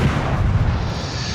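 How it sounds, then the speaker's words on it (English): Heavy warship guns firing in World of Warships, a sustained low rumbling boom that fills the whole moment without a break, loud and close with no voices. "I'm opening fire on her"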